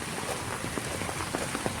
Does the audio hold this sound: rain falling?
yes